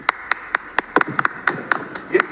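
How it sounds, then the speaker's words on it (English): A single team member claps in a steady, fairly quick rhythm of about a dozen sharp, close claps, with a faint voice murmuring underneath. "One of the team starts clapping."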